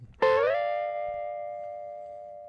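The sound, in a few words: guitar volume swell, plucked with volume down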